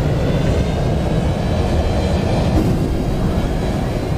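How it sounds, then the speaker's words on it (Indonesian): An airplane in a film begins to roll for takeoff, heard as a loud, steady, dense engine rumble that holds without a break and with no voices. "Pesawat pun mulai bergerak dan bersiap untuk lepas"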